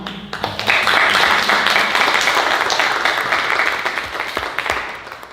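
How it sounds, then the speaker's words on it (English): An audience at a poetry reading applauds, a loud, sustained wash of clapping that swells quickly and slowly tapers over about five seconds. "So we thank you and we applaud you"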